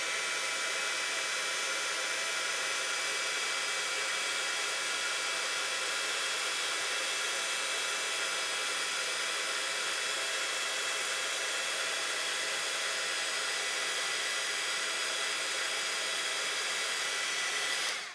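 A heat gun melting embossing powder on a stamped card blows a loud, constant airy roar that holds steady for the whole stretch, with no voices over it.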